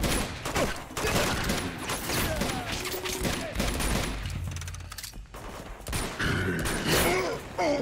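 Gunfire in the Uncharted 2 video game on PS5, with dense bursts of shots and automatic fire crackling over clattering mechanical noise, loud and continuous across the scene.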